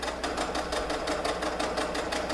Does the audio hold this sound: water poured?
no